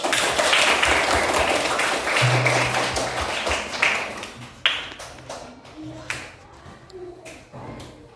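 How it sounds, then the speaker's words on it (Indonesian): Students clap in a classroom, a burst of applause that thins into scattered individual claps and taps, with some background voices and a faint tone underneath. "Baik, kita berikan tepuk tangan dulu."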